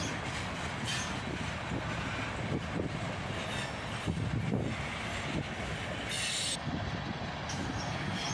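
A long, slow freight train with tank cars and boxcars rolls past close by. The steady rumble of its wheels brings occasional squeals and rhythmic clicks over the rail joints.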